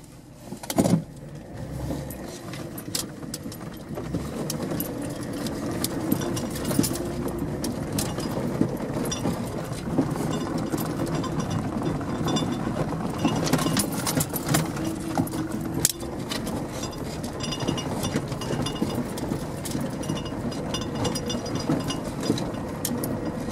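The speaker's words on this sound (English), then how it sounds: "Time to stick it in four-wheel drive for this one." A truck grinds along a bumpy forest road in four-wheel drive in north Idaho, its engine a steady drone under constant rattles, clunks and knocks from the rough ground, loud and close throughout, with no talking.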